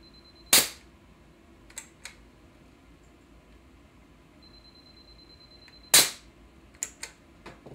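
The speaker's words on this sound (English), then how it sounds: "Shoot each well with the diffuser screen about 1/2 to 1 inch from the slice." Helium-powered gene gun shooting into slice culture wells, two sharp loud pops several seconds apart, each followed by faint clicks of handling in a quiet lab.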